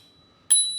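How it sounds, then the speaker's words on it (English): A single bright ding from the handlebar bell of a Troxus T1 electric scooter, struck up close and left to ring out with a clear, sustained metallic tone. "it's a bell."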